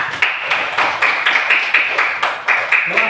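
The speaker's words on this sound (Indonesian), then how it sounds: "Tepuk tangan untuk kawannya." A classroom of students claps for a classmate in rhythmic, fairly loud unison beats, roughly three claps a second, with the sound close and clear.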